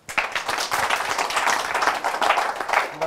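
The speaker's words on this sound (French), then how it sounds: "Nous allons applaudir le Rwanda." Audience applause at a plenary session, dense steady clapping from many hands filling the room continuously, fairly loud and without talk.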